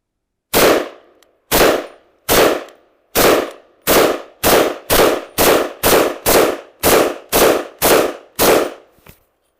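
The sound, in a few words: Vz.58 rifle firing during test shooting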